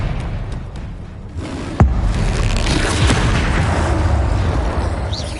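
Expelliarmus spell cast in a Harry Potter video game, a loud booming blast with a sharp crack near the start, then a sustained roaring rumble of battle effects, with no talking.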